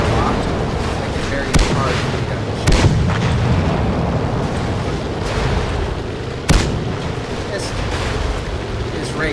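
Tank cannon shots in a tank-racing video game, a few sharp booming blasts scattered over a loud, constant engine rumble, heard alone without talk.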